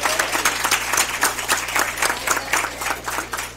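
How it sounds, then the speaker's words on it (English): Applause rings out at a school district board meeting for the Students of the Month, a steady crowd clapping in a lively, even patter that fills the room with a low hum beneath it. "let's give all our Students of the Month another big round of applause"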